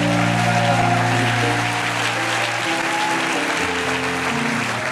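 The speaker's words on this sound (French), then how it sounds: "acclame la parole." Church congregation applauding loudly and steadily, a dense wash of clapping that holds from start to finish, with an organ or keyboard chord sustained underneath.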